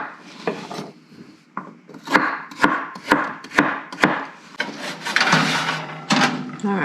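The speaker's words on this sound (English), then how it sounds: "we just need to chop these into 1-inch pieces, give or take" Knife chopping carrots into rough one-inch pieces on a cutting board, a run of sharp, close, irregular chops and thuds with a little scraping between strikes.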